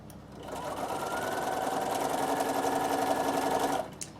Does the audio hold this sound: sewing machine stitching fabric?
yes